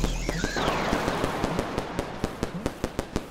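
Firecrackers going off in a video game: a rising whistle, then a string of sharp pops that start sparse and speed up into a rapid crackling run of close, loud bursts, with no voices.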